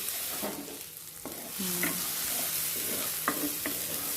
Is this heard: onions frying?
yes